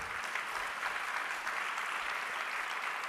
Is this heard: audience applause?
yes